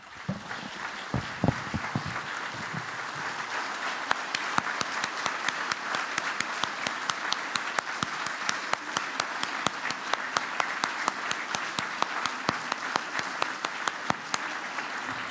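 Steady applause from a large crowd at a memorial tribute, dense and continuous with a few sharper individual claps standing out, sustained throughout.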